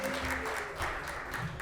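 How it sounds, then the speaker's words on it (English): An audience applauding a house band at a Hawaiian luau show, a soft, steady patter of clapping from a crowd heard at a distance, faint and brief. "how's about a nice round of applause for our house band?"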